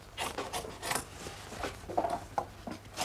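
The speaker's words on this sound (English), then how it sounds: "It's pressed down by hand, and again the surplus trimmed away." Surplus flax webbing is trimmed away on a handmade saddle, a series of short, close scraping and rubbing strokes repeating irregularly at a soft, quiet level.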